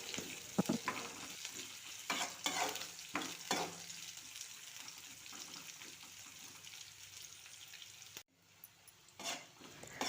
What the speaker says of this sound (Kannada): ಈಗ ನಾವು ಹಾಕಿರೋ ಎಲ್ಲ ಸಾಮಗ್ರಿಗಳನ್ನು ಗ್ಯಾಸ್ ಫ್ಲೇಮ್ ಲೋ ಇಟ್ಟು ಚೆಂದಾಗೆ ಫ್ರೈ ಮಾಡ್ಕೋಬೇಕು